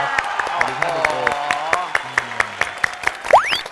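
A studio audience on a Thai children's show claps to welcome a pediatrician guest from Phramongkutklao Hospital, with quick, regular claps under voices and music.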